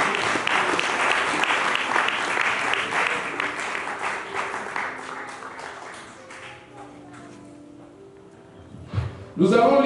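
Church congregation applauding loudly during a French-language Sunday morning worship service, sustained dense clapping that gradually thins and fades, with a brief louder burst of noise at the very end.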